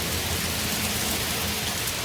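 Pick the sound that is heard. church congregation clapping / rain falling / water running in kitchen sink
rain falling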